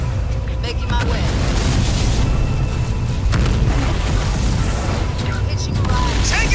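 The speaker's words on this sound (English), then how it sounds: "Taking a pounding from artillery" Artillery explosions in the Halo Wars 2 video game, a loud continuous barrage of deep booms and rumbling blasts that rarely lets up, with scattered sharper impacts throughout.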